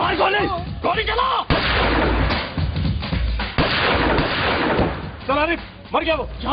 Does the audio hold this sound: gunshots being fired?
yes